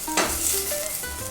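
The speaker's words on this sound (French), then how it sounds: "Dans la même casserole, on va juste venir réaliser une petite tombée de tomates comme ça." Small tomatoes sizzle and cook down in a saucepan, a steady soft frying hiss with a brief stirring scrape near the start.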